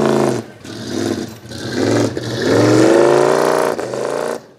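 An off-road wrecker truck's race-fuel-burning engine revs hard in several loud close bursts, climbing and dropping in pitch with a rough, throaty tone.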